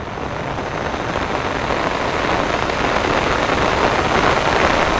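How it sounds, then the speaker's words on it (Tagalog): Heavy rain pours down steadily during a strong storm on a flooded street, a dense, unbroken hiss filling the scene at constant loudness, with no voices. "Umulan, lumakas pre."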